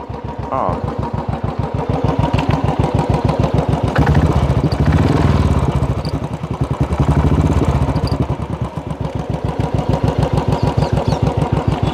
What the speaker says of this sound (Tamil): Silencer beat காமிக்கணுமா?